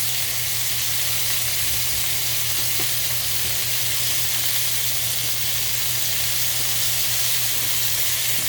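Lamb chops searing in a hot pan give a loud, unbroken sizzle and hiss over a low steady hum, close and constant for the whole stretch without speech.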